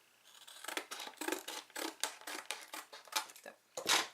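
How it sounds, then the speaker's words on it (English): Scissors snip steadily along the edge of a Bible mat, a quick run of about a dozen close, crisp cuts with short pauses, ending in one louder final snip. "And I'm just going to chop this edge off."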